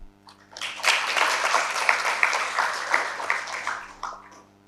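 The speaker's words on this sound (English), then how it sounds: "I think you deserve a clap." A small group at an official Kenya–Mozambique joint commission session claps for a speaker, a brief burst of close, distinct handclaps that swells after a quiet start and then fades.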